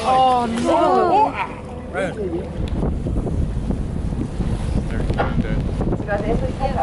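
A cruise boat picks up speed on the dark waters of Doubtful Sound, with a steady rush of engine, water and wind buffeting the microphone while people talk over it.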